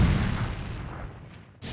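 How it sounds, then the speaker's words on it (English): A StarCraft: Brood War tank fires a long-range shell: a deep boom that fades out, followed by a second sharp impact near the end. "Now let's go use this to basically shell that guy from long range."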